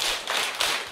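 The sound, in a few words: group clapping three times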